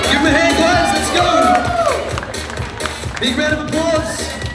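An audience at a bodybuilding competition cheers, whoops and applauds for women in the Ms Bikini 40-and-over class, a busy, loud crowd noise with scattered shouts and handclaps that swells early and then eases off slightly.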